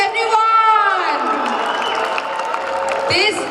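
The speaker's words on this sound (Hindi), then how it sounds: "जरा जोरदार तालियां बजाते प्लीज एवरीवन." Crowd applauds and cheers at a torch bearing ceremony during an inter-division hockey championship in Lahore, with a loud amplified voice carrying over the steady clapping throughout.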